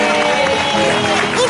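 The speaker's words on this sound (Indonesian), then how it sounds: "Tepuk tangan dong buat Alifa" A TV studio audience claps for Alifa, a guest who has just done push-ups on a talk show featuring a champion bodybuilder. The applause is a dense, steady roar, crowd-wide and close, mixed with cheering voices throughout.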